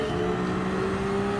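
A steady engine drone from a Ferrari in the Gran Turismo 7 racing game, a constant even hum with no revving or shifting across a brief stretch.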